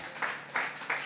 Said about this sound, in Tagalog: Pumalakpak po ng malakas ang lahat ng masaya.